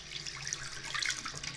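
Water runs from a tap into a sink, a soft, steady splashing stream, quiet and close.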